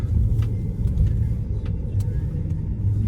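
Car driving through Belgrade city streets, heard as a steady low engine and road rumble from inside the vehicle with a few faint clicks, with a voice occasionally present.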